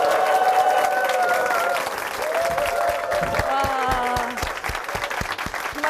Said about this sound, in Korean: 정말 마음에서 우러나오는 뜨거운 박수가 나오는 것 같습니다